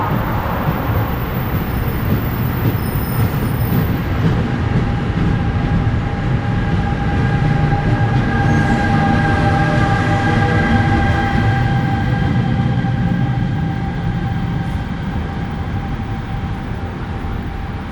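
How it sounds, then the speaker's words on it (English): An eastbound train rumbles past Brick Church Station in East Orange, New Jersey, steadily and loudly for the whole stretch, with rail clatter and a low engine drone, no voices. "And there the train goes"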